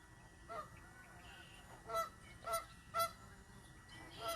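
Geese on the ice honking in a few short, separate calls heard at a distance over a quiet outdoor background, with a final fainter honk near the end.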